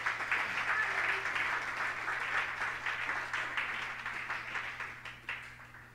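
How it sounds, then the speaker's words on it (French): A church congregation applauds and cheers loudly for the Lord, a dense, sustained wash of clapping that slowly thins and fades toward the end. "Acclame très fort pour le Seigneur."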